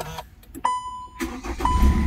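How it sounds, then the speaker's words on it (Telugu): A 2015 Hyundai Creta SX Plus AMT is started with its push-start button. Short electronic chimes sound first, then the engine cranks and catches into a low, steady idle rumble close by. "ఈ కార్ని స్టార్ట్ చేయాలంటే పుష్ స్టార్ట్ బటన్తో స్టార్ట్ చేయాలంటే ఒకసారి స్టార్ట్ చేస్తాను"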